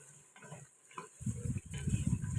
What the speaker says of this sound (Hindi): अब हम इसे तकरीबन जो है वो 4 से 5 मिनट के लिए अच्छे से भून लेंगे